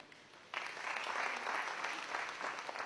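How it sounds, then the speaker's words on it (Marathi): An audience at a felicitation ceremony for meritorious MHT-CET and JEE students bursts into applause after a brief quiet moment, a dense, sustained wash of many hands clapping at a moderate distance. "अशा विद्यार्थ्यांचं आपण टाळ्या वाजवून मुद्दाम अभिनंदन करूया"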